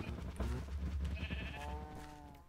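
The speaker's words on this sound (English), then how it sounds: "Oh, hello, cow who has escaped from the pen." A Minecraft cow that has escaped its pen lows with a couple of nasal, harmonic calls, one long drawn-out moo standing clearly above game ambience.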